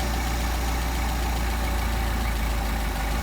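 A Mercedes-Benz 190SL engine fitted with Solex carburetors idles steadily at close range, a continuous low mechanical rumble with no talk over it.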